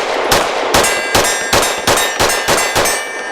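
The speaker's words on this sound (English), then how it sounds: "hit the steel, but it is a reduced size piece of steel" Rapid-fire pistol shots from a SAR USA P8L ring off a reduced-size steel target, about eight sharp metallic clangs in quick, slightly uneven succession, loud and close.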